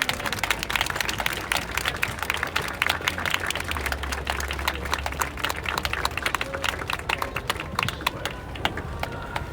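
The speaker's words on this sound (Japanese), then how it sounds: "皆さんもう一度拍手をお願いします。" A crowd at a Free Palestine street rally outside Shibuya Station applauds in a dense, continuous patter of many hands for nearly ten seconds, fairly distant, with a low traffic rumble underneath.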